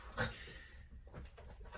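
A pet dog whimpers and yips faintly in a home, with a brief sharper cry and then soft fidgety whines against a quiet, noisy background.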